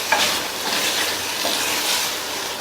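Fresh green peas are stirred through a sizzling masala in a pan for a radish and pea curry, giving a continuous close hiss with soft scraping strokes of the spoon and no talk.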